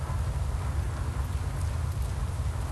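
Hooves of a dressage horse walking through circles and turns in an arena, a steady low thudding clip-clop heard continuously at moderate distance with no talk.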